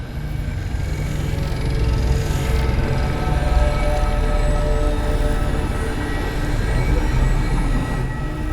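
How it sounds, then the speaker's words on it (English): A primitive train arriving in a video game, a loud continuous rumble with a steady droning hum and faint metallic squeal, and no talking. "I've seen primitive trains like this in old ruins."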